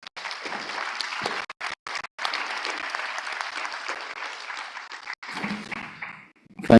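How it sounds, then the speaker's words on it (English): Conference audience applauds a panel at the African Economic Conference, a dense, steady wash of clapping that runs for several seconds with a few brief breaks before fading out at the end. "Ladies and gentlemen, a big applause to my panel."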